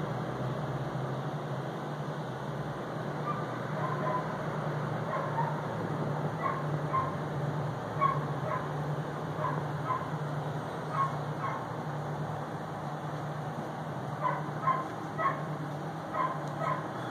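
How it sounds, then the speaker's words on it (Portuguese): A dog barks out on the street, distant and faint, a series of short yaps and yips in scattered bursts over a constant hum of computer fans indoors. "vocês devem estar ouvindo um cachorro chato latindo aí na rua"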